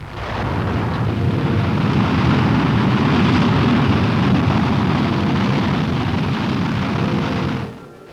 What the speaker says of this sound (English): the Army's deadly Corporal missile is launched to seek out and destroy the enemy's missile emplacement